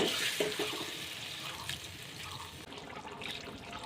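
Water pouring into a fish curry in a pan, a close rushing, splashing stream that fades slightly toward the end.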